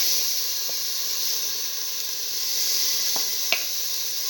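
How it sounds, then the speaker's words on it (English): Mint leaves hit a hot pan and sizzle with a steady, bright hiss of frying, close and moderately loud, with a few small crackles and pops near the end and no talking. "Put in the mint leaves"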